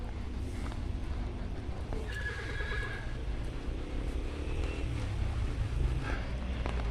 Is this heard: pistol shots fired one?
no